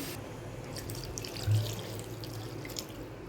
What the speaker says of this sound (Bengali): জল দিয়ে দিচ্ছি একটু ঝোল ঝোল হবে তাই বেশি জল দেবো